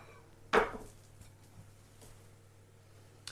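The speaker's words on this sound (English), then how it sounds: "Put the plate on top of the frying pan, like so." A plate set down on a frying pan gives one sharp, close clack followed by quiet, with a faint tap at the very end.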